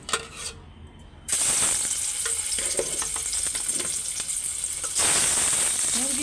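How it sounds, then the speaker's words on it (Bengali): Spiced boiled karkol pieces frying in a pan, a loud continuous sizzle that starts after a brief quiet stir and then surges louder near the end. "কারকলগুলো এখন একটা করে ভাইজা নিব"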